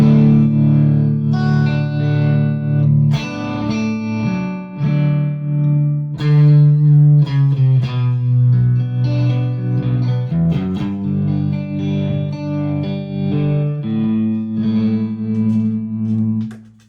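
Electric guitar through an Axe-Fx unit with a slow VCA tremolo, sustained chords swelling and fading in a continuous wash, with reverb and echo trails, played alone.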